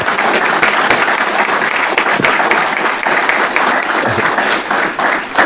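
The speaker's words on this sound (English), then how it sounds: "can we just give all of our honorees another big round of applause?" At a school district citation ceremony, an audience gives the honorees a big round of applause, loud, dense and sustained clapping from many hands, continuing without a break and with no voice over it.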